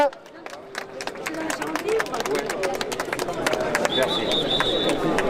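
A crowd at an anti health-pass protest march in Limoges claps steadily outdoors, many hands over a constant murmur of voices and street noise, with a thin whistle-like tone entering near the end.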